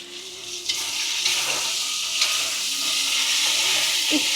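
Spices frying in a pan, a steady loud sizzle and hiss with occasional stirring scrapes, heard alone with no talk.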